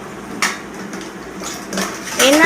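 Dishes and pots are washed at home, with a few sharp metallic clinks and clatters standing out over a steady background of running water and handling noise, close by.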